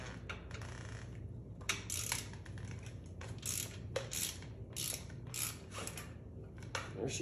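Close, repeated clicking of a ratcheting wrench in short bursts as a fork tube bolt on a Harley is loosened, with faint metallic handling between strokes.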